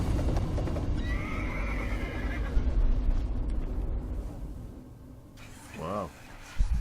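A horse in the horror video game Layers of Fear gives a loud, close neigh, a wavering whinny near the end, over a dense game soundscape of clip-clop and rumbling noise, with people talking over it.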